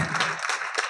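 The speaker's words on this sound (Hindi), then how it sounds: "थोड़ी ताली बजाओ भाई रोज दर्शन करने वालों की" Brief burst of audience clapping at a Jain religious gathering, a short patter of hands in a moderately sized crowd, fairly faint and fading quickly.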